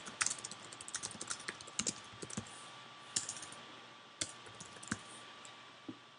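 A note with initials is typed on a computer keyboard in a steady run of close, crisp keystrokes, with a few louder presses and short pauses breaking the rhythm.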